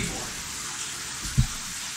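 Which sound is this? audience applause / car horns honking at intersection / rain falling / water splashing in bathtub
water splashing in bathtub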